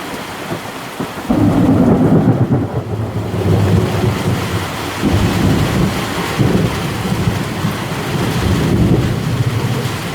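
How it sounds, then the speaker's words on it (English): Heavy rain pours steadily while deep rolling thunder rumbles in close, swelling and lingering for several seconds; no voices. "we got a big thunderstorm going on"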